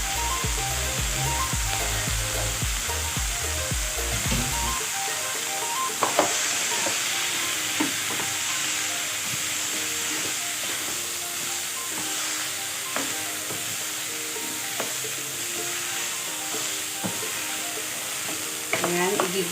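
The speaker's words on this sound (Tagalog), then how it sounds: "igigisa muna natin itong malagkit para ma-absorb ng malagkit yung mga flavor pa na nasa pan" Glutinous rice being sautéed in a pan for Kapampangan bringhe, a steady loud sizzle and hiss with repeated stirring scrapes, a low humming tone at the start before settling into continuous frying.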